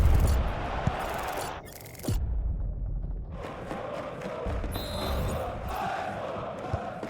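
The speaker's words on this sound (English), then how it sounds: "the crowd are willing them to score here" Football stadium crowd at a Hannover 96 Bundesliga match roaring and cheering as a goal chance builds, a loud broad surge that dips briefly and then swells again, with commentary underneath.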